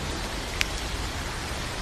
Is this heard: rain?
yes